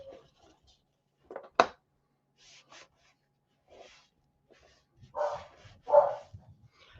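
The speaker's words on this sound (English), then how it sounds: "you can't train them not to bark. They're beagles." Beagles bark in a few sharp, scattered yaps and a couple of louder gruff barks, close by, separated by quiet gaps with faint rustling.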